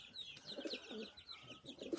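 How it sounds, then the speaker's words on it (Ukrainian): Young homing pigeons, the first squabs of the 2025 season, coo softly and repeatedly at close range, with bird chirps and twittering layered over the cooing and no talk. "Це перший в мене голубенят 25-го року."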